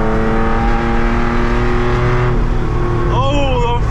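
An 1100hp ProCharged C7 Corvette lapping a track accelerates hard through its short gears, a loud, close engine roar climbing in pitch and then dropping sharply at a shift before rising again.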